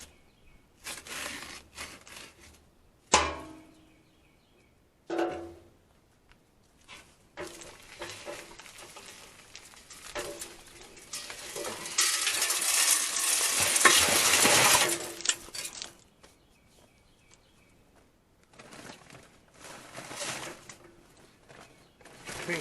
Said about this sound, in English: I pour in the holes with my Harbor Freight concrete mixer